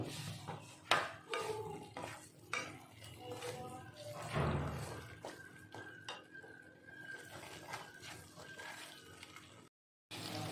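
Chilli, coriander powder and cumin powder being stirred and fried in a pan with crab and potato, spoon scrapes and clinks against metal in uneven strokes up close, with occasional soft talk and a short dropout near the end.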